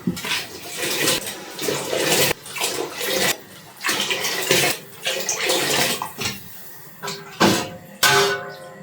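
Water gushes into a cooking pot of Romanian soup with bony meat in short, splashing bursts separated by brief pauses, close and fairly loud.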